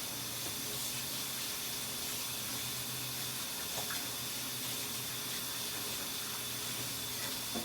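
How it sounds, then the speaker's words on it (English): Steady hiss of running tap water splashing into a kitchen sink as hands are washed before making baking powder biscuits, a continuous even wash of sound at moderate level with no talking. "let me go wash my hands real quick so I can make my biscuits"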